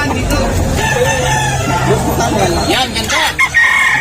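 Several roosters crow loudly over a noisy crowd, their calls overlapping amid chatter and clucking.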